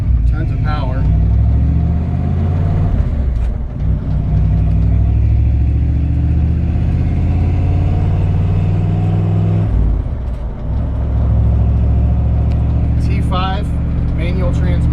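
A 1951 Ford F1 truck with a built 302 V8 rumbles loudly and steadily up close, with a brief dip in the engine note, under a voice talking over it.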